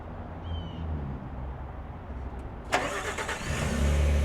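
A 2025 Nissan Frontier SV starts by remote start, a sharp crank burst followed by a steady low engine idle building at moderate distance.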